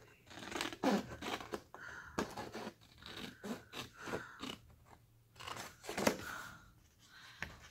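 Scissors snip through paper while trimming a mini waterfall photo book for 2x3 photos, giving a run of crisp, close cuts and crunches in uneven bursts with short pauses between them.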